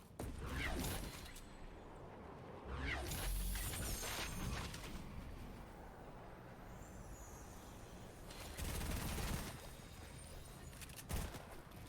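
Muffled gunfire crackles in a shooter video game as a player pushes aggressively, with bursts of shots coming and going amid a busy, noisy background.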